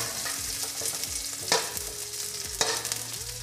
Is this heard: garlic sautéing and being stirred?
yes